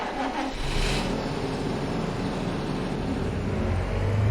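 A tractor engine in Farming Simulator 25 drives with a steady mid-pitched drone and a brief rise in revs at the start, loud and continuous.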